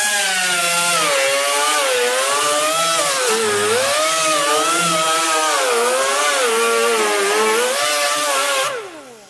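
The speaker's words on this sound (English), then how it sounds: "Scotch-Brite wheel." Scotch-Brite wheel grinding car body metal, a loud steady whine that wavers in pitch as pressure shifts, running continuously before cutting off at the end.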